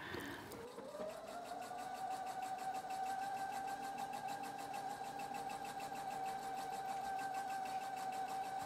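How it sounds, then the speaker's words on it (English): A sewing machine stitches tape along the edge of a scrub cap in one continuous, even whirring hum that speeds up at the start and then holds a steady pitch, close and quiet. "Stitch the tape to the edge of the cap."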